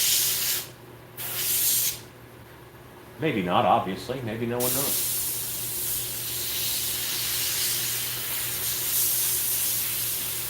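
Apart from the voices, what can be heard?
airbrush spraying paint on a mummy mask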